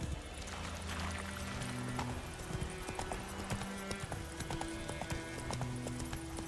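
Roach, the horse in The Witcher 3, gallops in a quick steady clip-clop of hooves over game music and ambience, with rhythmic hoofbeats continuing throughout.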